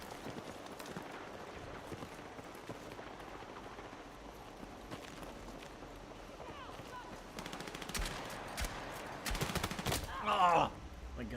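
Rapid automatic gunfire in the Battlefield 6 video game, bursts of shots over a busy battlefield mix with distant combat noise, growing louder toward the end.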